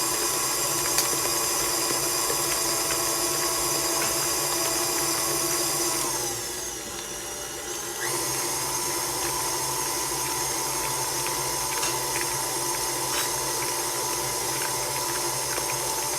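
An electric mixer beats egg into sponge cake batter, giving a steady, continuous motor whir with a brief dip in pitch and loudness midway before resuming, with no one talking.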